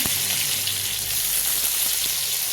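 Garlic, chilli and mustard seeds fry in hot oil in a pan, giving a steady, dense sizzle that stays close and even throughout, with no voices.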